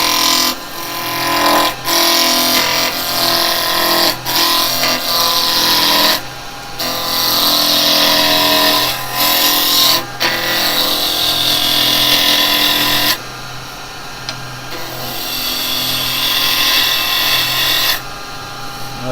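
A roughing gouge roughs down a wood blank spinning on a lathe, producing a loud, continuous rasping scrape with short breaks between passes as the tool is lifted and reapplied.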